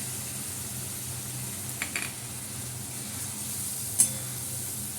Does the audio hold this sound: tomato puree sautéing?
yes